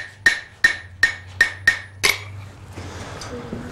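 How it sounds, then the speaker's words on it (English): Six sharp, ringing blows of a straight peen hammer on a hot iron tab as a blacksmith forges a flower, evenly spaced close strikes over about two seconds, followed by quieter shop sounds. "Now I'm going to use the straight peen. Come down on that tab."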